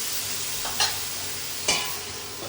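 Pieces of ash gourd fry in oil over a medium flame, releasing lots of water, a steady close sizzle broken by two brief knocks of a spatula.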